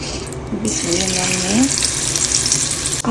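Hilsa fish, rubbed with salt and spices, go one by one into hot oil. A hissing, watery sizzle rises and holds while someone talks over it.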